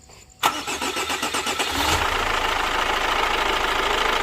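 A Chevrolet Captiva diesel SUV engine cranks with a rapid rhythmic starter whir, then fires and settles into a loud, steady, gravelly diesel idle close by.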